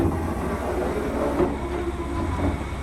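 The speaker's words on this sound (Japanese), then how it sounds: "列車は一番西側の1番線に入線します。" A train pulls into platform 1 at Nayoro station in Hokkaido, heard from on board as a steady, loud rumble of wheels and running gear with faint rail clicks throughout and no talk.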